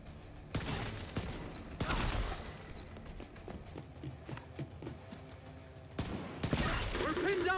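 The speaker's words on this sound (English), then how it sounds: "We're pinned down by turrets at the main gate!" Turret gunfire rattles at the main gate in The Division 2, with a dense burst of shots starting early, another heavy volley near the middle, then scattered rapid firing that swells again at the end.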